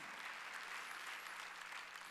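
A church congregation claps together during a Wednesday worship service, a dense, even wash of applause that continues steadily throughout.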